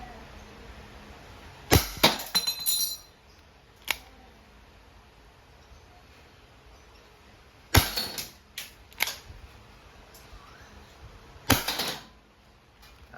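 Crosman SR 357 air revolver firing steel balls, three groups of sharp snapping shots in single and double action, each crack followed by brief clicks and rattles, with quiet gaps between.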